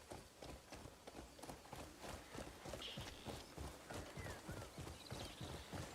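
Galloping horse hooves in the video game Crimson Desert, a steady rapid clip-clop rhythm running throughout, close and moderately loud, with occasional faint game sounds over it.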